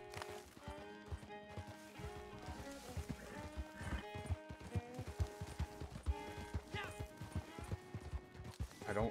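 Horse hooves clip-clopping in Red Dead Redemption 2, a rhythmic trot of steady hoof beats over a bumpy road, blended with game music and a voice.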